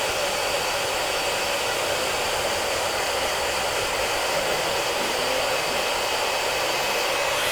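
A hair dryer blows steadily and loudly at close range for the whole stretch while hair is curled and heated to build volume at a barbershop, a constant broadband rush with no talking.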